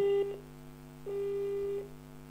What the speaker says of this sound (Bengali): আচ্ছা ফোনটা কেটে গেল